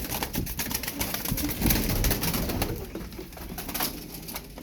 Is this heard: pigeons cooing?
yes